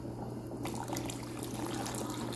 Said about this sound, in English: So I'm going to add just a little bit of water.